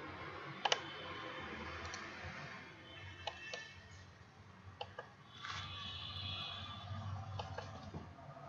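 A computer mouse gives several faint, sharp clicks, spaced irregularly over a low steady hum while a file is chosen in a web browser.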